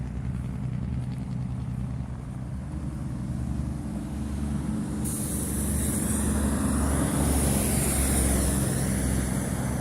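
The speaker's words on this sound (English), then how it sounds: "These trucks are loud braking." Loud rumbling traffic with heavy engine noise; midway a bright, sustained high hiss cuts in, like a big truck's air brakes releasing nearby.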